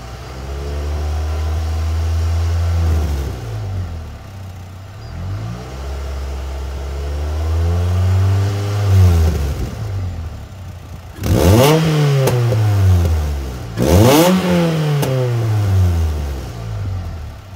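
Ford Fiesta ST with a new VRR exhaust revs up loudly several times, each rise and fall of the engine close and clear, with sharper, harder blips toward the end and no talking.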